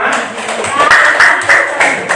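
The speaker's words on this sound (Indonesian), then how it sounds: "saat tepuk tangan dulu untuk kelompok 5" Clapping for a student group at a classroom presentation, a few sharp overlapping claps in loose rhythm close by, with a voice speaking over part of it.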